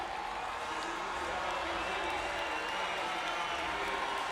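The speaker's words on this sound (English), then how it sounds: "Clodoaldo Silva is being cheered on by the crowd, but Roy Perkins of USA takes it to the wall" Steady roar of a crowd cheering and applauding in an indoor aquatics venue during a Paralympic men's 50m freestyle S5 swimming heat, a continuous wash of distant noise with no breaks.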